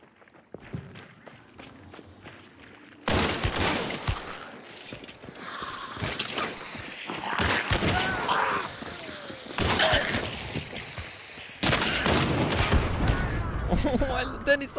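Rapid gunfire at a video game shooting range after an ammo update, loud bursts arriving in dense clusters with short gaps, some footstep-like sounds between them and players talking over the shots.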